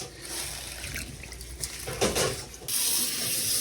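Tap water running steadily into a kitchen sink to rinse collard greens, a continuous close splashing rush that swells midway and grows brighter near the end, with no talking.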